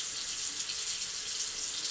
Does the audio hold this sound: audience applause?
no